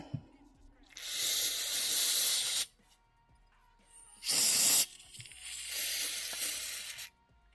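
Spray cleaner misted onto a Bersa Firestorm pistol slide in three close, loud hissing bursts, the first two long and the last shorter, separated by brief quiet gaps.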